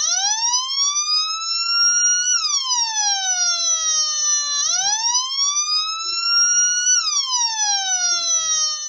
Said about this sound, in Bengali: আমরা একসাথে এমন একটি ইলেকট্রনিক প্রজেক্ট তৈরি করব যেটি পুলিশের সাইরেনের মতোই শব্দ করবে।